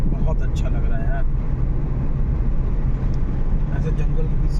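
A car drives with the air conditioning off through dense forest in Pilibhit Tiger Reserve on a 31-degree day, giving a steady, loud engine and road rumble throughout with faint chirps above it.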